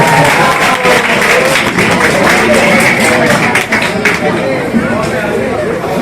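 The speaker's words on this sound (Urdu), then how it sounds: "زوردار تالیوں سے ان کا استقبال ہے۔" Loud, dense applause fills a crowded Urdu poetry gathering (mushaira) welcoming a poet, with constant crowd noise throughout and no break.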